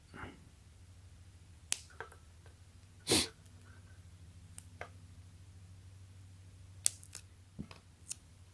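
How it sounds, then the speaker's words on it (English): A cutter snips wire tape for a power bank circuit board, one loud crisp cut among several smaller sharp clicks and handling taps scattered across a quiet background. "I'm going to put a strip of this wire tape around it. I'm going to use this cutter."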